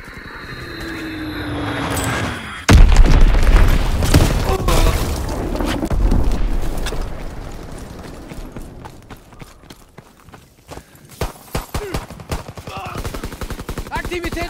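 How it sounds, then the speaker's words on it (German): Enemy bomb blasts in Call of Duty WW2 gameplay: a sudden heavy explosion followed by rumbling, then scattered rapid gunfire and sharp cracks in a busy battlefield mix. "Feindliche Bombe im Anflug. In Deckung."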